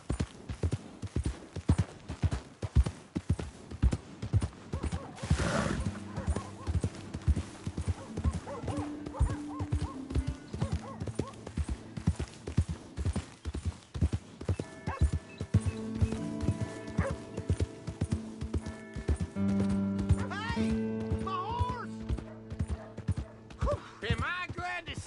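Rapid, steady hoofbeats of a horse trotting in Red Dead Redemption 2, a close rhythmic clip-clop running throughout, with a whinny, game sounds and music layered over it.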